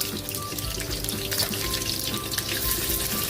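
Chicken frying in a pan of hot oil, a dense, steady crackling sizzle that holds at an even level throughout, close and with no voices.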